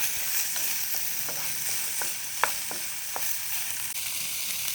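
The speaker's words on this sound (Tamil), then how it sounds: "லைட்டாக வதக்கினா போதும். ரொம்பலாம் வதக்கவும் கூடாது, லைட்டாக வதங்கினா போதும்." Vegetables lightly sautéing in a pan for a Mexican salad: a constant bright sizzle with a series of short spatula taps and scrapes against the pan, close and fairly loud, and no talking.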